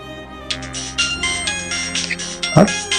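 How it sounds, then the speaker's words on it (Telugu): A mobile phone ringtone plays for an incoming call: a steady melodic loop of bright tones with no voices, and a short louder blip near the end. "ఫోన్ వచ్చింది."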